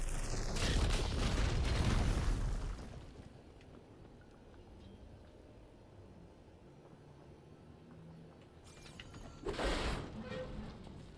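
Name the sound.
explosion blowing up a fire beam in Horizon Forbidden West video game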